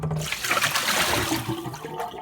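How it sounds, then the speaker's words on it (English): Water gushing from a kitchen faucet into a sink, a steady close rushing stream filling the whole short moment without pause. "the faucet is ejecting the exact same amount of water"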